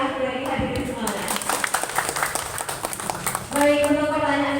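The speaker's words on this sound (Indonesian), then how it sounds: "kita minta dulu tepuk tangan yang meriah dari hadirin semuanya." At a village leadership election debate in Gunung Padang, the audience gives a lively burst of applause, scattered claps rising and fading under a voice, before a speaker's amplified talk takes over.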